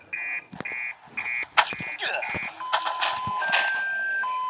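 Repeating electronic alarm beeps sound in bursts during a video game party bus event, with game effects and brief voices layered over them, ending in a steady held tone.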